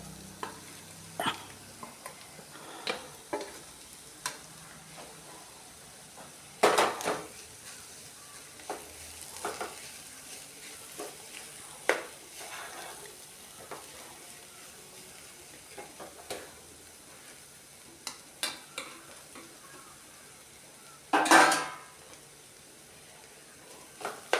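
Ground paste is stirred into beetroot thoran in a pan, with quiet, continuous sizzling close by, broken by scattered spoon scrapes and a few louder clatters of utensil against the pan.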